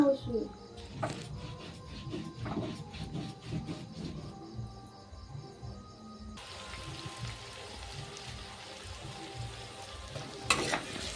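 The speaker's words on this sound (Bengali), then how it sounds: "ওই তেলে আবার পেঁয়াজ দিয়েছি" Onions fry in hot oil with a steady sizzle, broken by stirring clatter, as a voice talks now and then.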